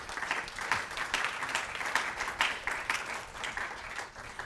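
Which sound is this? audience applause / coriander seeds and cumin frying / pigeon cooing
audience applause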